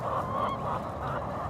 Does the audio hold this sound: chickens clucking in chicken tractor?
yes